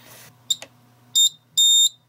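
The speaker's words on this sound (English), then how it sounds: "Let's go ahead and check out the alarm part of the circuit." A homemade touch-sensitive perimeter alarm circuit sounds its buzzer in short high-pitched bursts, two brief chirps, then a short tone and a longer steady tone, close and clear, with no talking.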